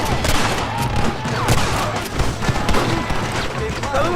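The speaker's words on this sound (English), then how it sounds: "Shoot them, John!" Gunfire in the Red Dead Redemption video game: a dense, continuous fusillade of rapid shots and booms, loud and sustained throughout, with shouting voices mixed in.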